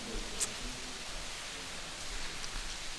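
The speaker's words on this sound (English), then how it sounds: "I'm sure you can all hear the rain coming down. We're having a major rainstorm today." Heavy rainstorm pouring down outside a Buddhist monastery in Berkeley, a steady, even hiss of rain with a faint brief tick, continuous and alone without any voices.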